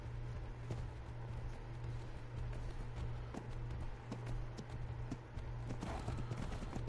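Horse hooves in Ark: Survival Evolved, a quick, regular clip-clop of trotting steps over a low steady hum, moderately close and continuous.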